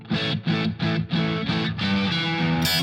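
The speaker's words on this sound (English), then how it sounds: "It's a Marshall amp pushed to the limit clean." An electric guitar runs through a Marshall amp turned up hard but kept clean, with a little reverb and added high end. Repeated strummed chords sound in a steady rhythm before ringing out sustained, loud and up front.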